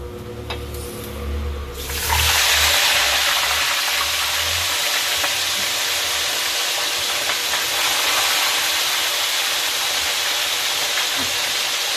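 Vinegar-and-garlic-marinated fish frying in hot oil, a steady loud sizzle that bursts up after a quiet start and then hisses on continuously without letting up.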